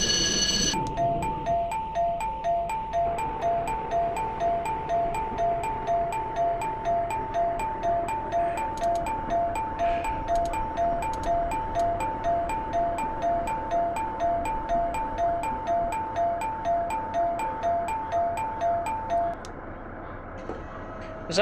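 A Kiha 40 train plays its ding-dong chime, a steady two-tone electronic ring that repeats for about twenty seconds over a rhythmic mechanical pulse before it stops.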